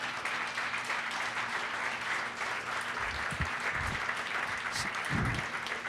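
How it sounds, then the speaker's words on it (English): Audience applause at a coalition meeting, a steady round of clapping throughout, fairly quiet and even, with a few low thumps near the end. "Another big round of applause."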